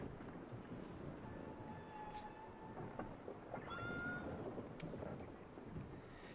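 Cat meowing a few times in Assassin's Creed, faint and short cries over a low wind-like game ambience.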